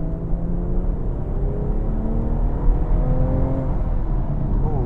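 A BMW 440i engine pulls steadily as the car accelerates, a deep, smooth drone that climbs gradually in pitch, heard continuously from inside the cabin.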